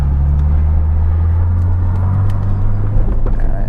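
Steady low exhaust drone from a BMW 335i idling nearby with muffler and resonator fitted, a deep even rumble with a slight rasp, no speech.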